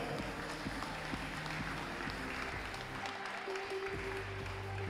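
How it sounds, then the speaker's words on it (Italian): Audience applause at the finals of the 2023 Italian bouldering championship in Forlì, a steady wash of clapping from a large crowd lasting throughout, fairly loud and continuous without distinct pauses. "Applauso."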